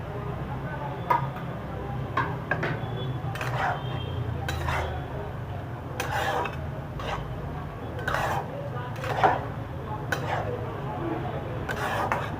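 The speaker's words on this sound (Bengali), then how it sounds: "এবারে এই মাশরুমটাকে এর সাথে মিশিয়ে দিচ্ছি।" A spoon scrapes and clinks against a pan as mushrooms are stirred into Maggi noodles, giving irregular metallic taps and scrapes over a low steady background hum, close and moderately quiet.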